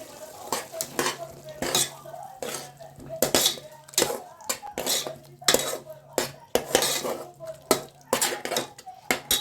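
Ground tomato and water being stirred in a metal pan with a spoon or ladle, while a mushroom pulao's chicken masala fries; repeated scraping clinks and utensil knocks in an uneven rhythm over a soft sizzle, close and fairly loud, with occasional voice.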